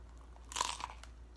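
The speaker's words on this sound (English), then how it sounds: "You hear that crunch of the Dorito right in the middle with that delicious crunchy cheese." Crunchy Doritos inside a breakfast stuffed crust pizza with crispy cheese bitten and chewed; a short crisp crunching burst near the middle, fairly close and alone, with no talking.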